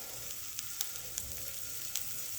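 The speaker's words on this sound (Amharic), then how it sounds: "በይህ በራሱ ስብ ብቻ ነው የጠበስኩት።" Beef tibs fry in their own rendered fat in a pan with no oil added, giving a steady, close sizzle with a few sharp pops and crackles and no voices.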